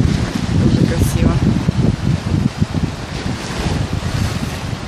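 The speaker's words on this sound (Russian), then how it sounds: "Эгейское море." Waves of the warm Aegean Sea at a Turkish beach hotel wash in with a loud, continuous surf roar and heavy wind buffeting the microphone, close and unbroken for the whole stretch.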